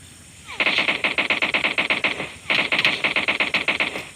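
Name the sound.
gunfire in PUBG video game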